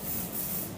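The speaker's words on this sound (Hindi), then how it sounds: "hard spray" Hard hairspray sprayed onto hair while finishing a high pony with wave curls, a close, steady hiss lasting under a second.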